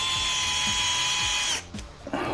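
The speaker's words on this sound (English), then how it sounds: "He forgot to drill one of the holes." A power drill whirs steadily and close while boring a screw hole in an RC car, then cuts off abruptly, leaving faint handling clatter.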